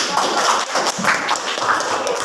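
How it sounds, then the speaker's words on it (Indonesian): Students clap in a classroom during a junior high mathematics lesson on Cartesian coordinates, a short burst of uneven, fairly close hand claps with no one speaking over it. "Silakan tepuk tangan dulu, Nak."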